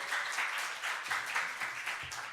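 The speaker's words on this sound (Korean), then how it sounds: "나오실 때 큰 환영의 박수 부탁드리겠습니다" A church congregation at a Korean worship service applauds to welcome the pastor to the front, steady rhythmic clapping in a moderately sized room, heard alone.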